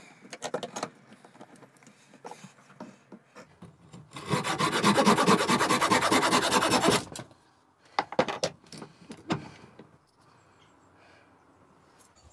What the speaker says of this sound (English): let's start off here with our four in hand using a rasp.